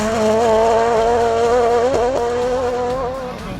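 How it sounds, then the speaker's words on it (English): Peugeot rally car at a Barbados rally revving hard through a corner and running onto the grass, a loud, close engine note rising and dipping as it passes. "Dansky in the Peugeot getting a bit too much onto the grass at the popular Vaucluse corner."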